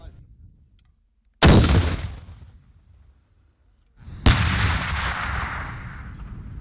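Two powerful RPG grenade launcher blasts on a military training range, each a sharp crack followed by a long rumbling roar, several seconds apart, outdoors with no talking.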